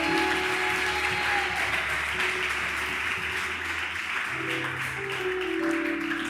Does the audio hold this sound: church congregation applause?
yes